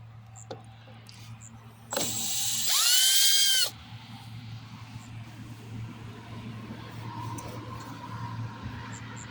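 Ratchet and socket clicking briefly while loosening 9/32 screws on a Poulan Pro push mower, a loud burst of about two seconds standing out from quiet surroundings.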